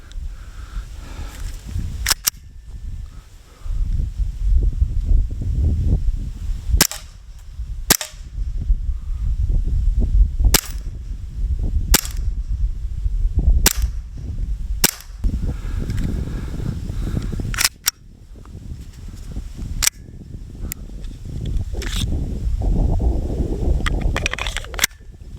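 Repeated sharp cracks from a Glock 17 Gen 4 BB pistol fired outdoors, roughly a dozen single shots at irregular spacing over steady wind rumble and gusts.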